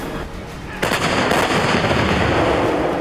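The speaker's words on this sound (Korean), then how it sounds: "방아끈을 당기는 것과 동시에 불을 뿜어내는 K9 자주포" A K9 self-propelled howitzer fires during an artillery brigade drill, one sudden heavy blast cutting in after a low rumble and then a long, loud, rolling roar that fills the rest of the moment.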